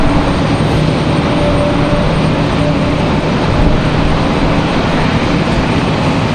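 A Spirit Airlines Airbus A320neo with Pratt & Whitney engines roars loudly and steadily at Raleigh-Durham airport, a dense, continuous engine rumble with a faint tonal hum.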